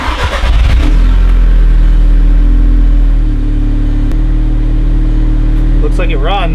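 A MK2 Audi TTS engine with an upgraded fuel pump cranks and fires up with a brief rev, then settles into a steady, close, loud idle; a voice is heard near the end.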